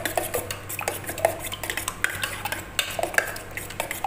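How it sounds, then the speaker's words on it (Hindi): A spoon stirs Maggi noodles with onion in a metal pot, producing rapid, close metallic clinks and scrapes in an uneven rhythm with no talking. "थोड़ा चम्मच से मिक्स करना पड़ेगा,"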